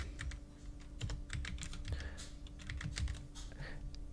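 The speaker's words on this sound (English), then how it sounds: "So we type in potential" Rapid typing on a computer keyboard, with a close, quiet run of uneven clicky keystrokes over a faint steady hum.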